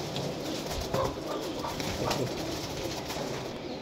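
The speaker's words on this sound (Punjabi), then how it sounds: "ਇਹ ਨਾਰੇ ਬੜਾ ਤਗੜਾ ਕਬੂਤਰ ਹੈ ਕਬੂਤਰ ਦੇਖੋ" Pigeons kept for sale at a crowded loft produce soft repeated cooing amid constant noisy background bustle, with the calls fairly faint and partly masked rather than clear and close.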